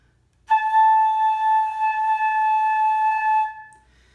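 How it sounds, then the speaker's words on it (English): A breathy flute-like tone sounds from air blown into a flute head joint, one steady held note lasting about three seconds alone in a quiet room. "Blowing into the head joint is similar to blowing across a bottle"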